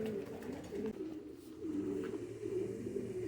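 Pigeons coo continuously close by, in low, throaty overlapping murmurs with a soft rolling rhythm and a faint background hum.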